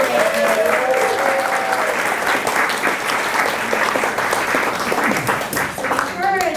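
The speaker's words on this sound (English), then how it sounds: "Can we have a round of applause for Brandon?" Comedy-show audience at a fiftieth birthday party applauding for Brandon, loud sustained clapping from a close crowd with a few cheers and voices mixed in throughout.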